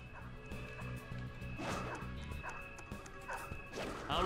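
An enemy dog in the Persona 5 Royal video game barks in quick repeated yaps over layered game music and effects, with a few crashing hits mixed in.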